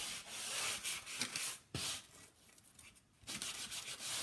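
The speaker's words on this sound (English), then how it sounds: "And I love sanding blocks." A sanding block rubs back and forth over a painted wood tray with a paint inlay, giving close, quiet scratchy strokes in an uneven rhythm with a few short pauses and a light knock.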